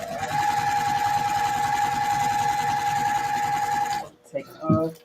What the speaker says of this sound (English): So I'm going to backstitch here again.